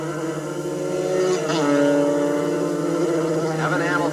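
Amateur 125cc Honda Grand Prix racing motorcycles howl along the back straight at Shannonville Motorsport Park around 1982, with high rising engine whines passing while an announcer talks over them.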